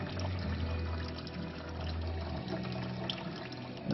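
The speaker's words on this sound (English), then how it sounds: "And here comes the oil from the filter." Motor oil pours steadily from a Honda Civic oil filter into a drain pan, a continuous close liquid splash and trickle with a low hum underneath throughout.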